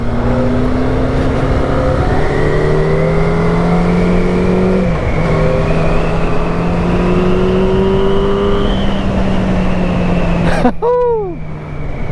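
A Yamaha FZ8 inline-four motorcycle engine pulls hard under acceleration while riding, its rising whine steady and loud with wind rush, ending in a quick rev drop and gear change near the end.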